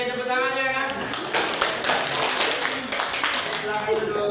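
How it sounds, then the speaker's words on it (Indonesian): Students in a classroom clapping, a dense burst of many hands applauding together for several seconds, with talk mixed in at the start. "Oke, tepuk tangannya kan."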